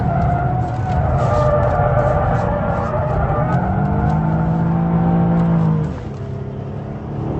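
An Infiniti G37 sports car driven hard at its handling limit, the engine roaring loudly and steadily with a rising then falling pitch and hints of tyre noise, cutting off abruptly near the end, with no talk.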